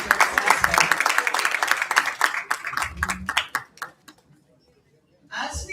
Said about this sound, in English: Let's give a big round of applause to all our award winners